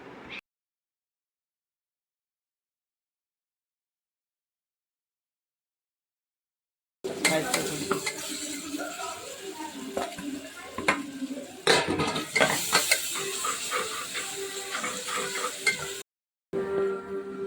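Onion and ginger garlic paste sautéed in a pan, heard after a long silent gap as a close sizzle with repeated stirring scrapes and utensil clinks, briefly cutting out near the end.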